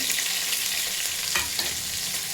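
Onions and whole green chillies sizzle in hot ghee in a pan while being stirred for ghee rice, a steady close frying hiss with a couple of brief stirring scrapes and no talking.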